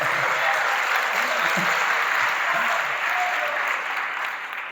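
A conference audience of young people at a motivational talk applauds steadily, a dense sustained clapping that stays loud throughout and tapers slightly at the end.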